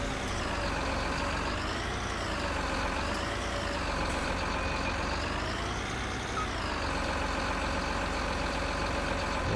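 The Buffalo forestry machine's engine in Farming Simulator 19 drones steadily and loudly throughout, a continuous mechanical hum with slow rising and falling pitch, without speech.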